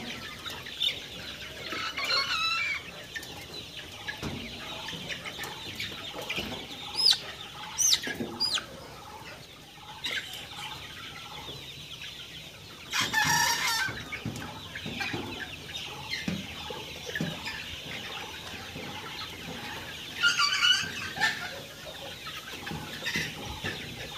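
Chickens on a poultry farm clucking on and off, with occasional louder squawks and brief wing flaps, fairly close over a quiet background.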